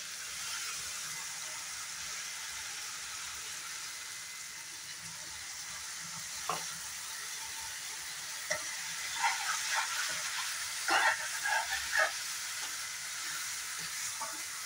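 Spice masala for a dhaba-style chicken masala fries in a pan with a steady soft sizzle, and a few sharper stirring scrapes and crackles break in toward the end.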